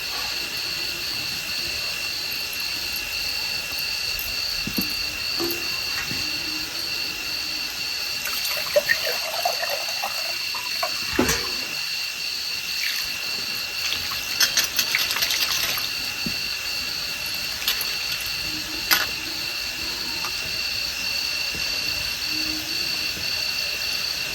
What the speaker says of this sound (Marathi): आता परत आपल्याला दुसऱ्या पाण्याने धुवायची